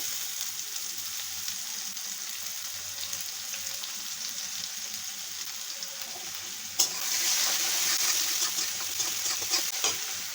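Chopped onion hits a pan of frying potatoes: a constant sizzle with stirring scrapes, then a sudden louder, brighter hiss as the onion goes in partway through.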